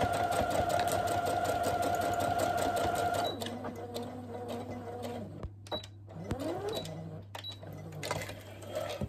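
A sewing machine stitches fabric lining for a drawstring project bag, running steadily, then briefly reversing in short bursts, close and loud, with a constant motor hum underneath.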